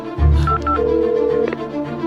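Telephone keypad tones beep as a number is dialed, with a couple of short tones and then a longer steady tone, fairly loud over a low background hum.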